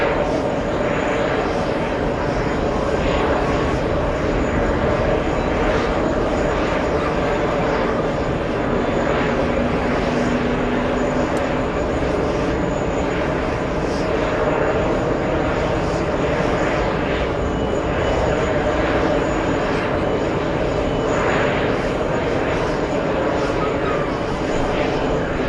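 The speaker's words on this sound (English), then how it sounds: "As we wait for SAS to begin their takeoff roll" A Scandinavian SAS airliner bound for Copenhagen idles its jet engines at JFK Airport before the takeoff roll, a loud, unbroken roar and hiss heard from a distance across the field, with voices talking faintly beneath.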